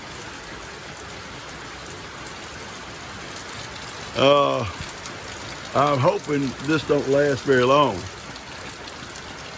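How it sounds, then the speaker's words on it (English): Steady rain patters down in a continuous hiss during flooding near a river while someone speaks briefly over it. "the rain started again"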